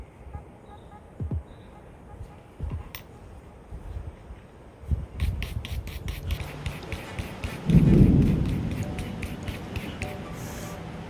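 Brass brush scrubbing rust off blued firearm parts of a SW40VE pistol, a rasping scrape that builds into a louder burst near the end, heard under someone talking.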